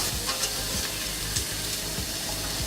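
Steak sizzles on a BBQ grill, a steady loud frying hiss with faint spitting crackles and no talk.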